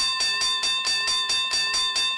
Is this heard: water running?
no